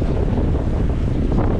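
Wind rushes steadily over a 44-foot sailing yacht running with its engine shut off, a loud, constant roar of wind buffeting the microphone with a faint wash of water beneath and no voices.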